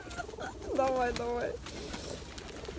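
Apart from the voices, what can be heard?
pigeons cooing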